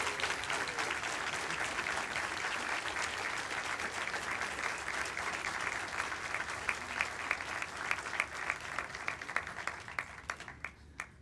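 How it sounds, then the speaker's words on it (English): Sustained audience applause fills an awards ceremony luncheon at a sustainability summit, a dense steady clapping wash that thins into scattered distinct claps near the end, with no talk over it. "Can we give them all a round of applause?"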